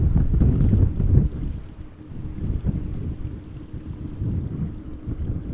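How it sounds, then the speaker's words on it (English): Wind at Amsterdam Schiphol Airport by the Polderbaan runway, blowing from the south-southwest, rumbles and buffets the microphone with a steady low roar that gusts louder early on. "We have wind blowing from the south-southwest."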